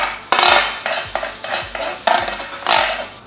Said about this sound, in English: So I'll just put this in the pan. The pan is already hot.